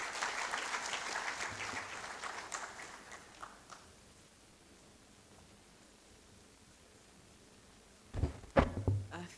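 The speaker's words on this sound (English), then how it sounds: "As she comes, please, let's applaud." Audience applause at a university research conference opening ceremony as a speaker approaches, fairly distant and thinning out over a few seconds, then a lull and some close handling thumps.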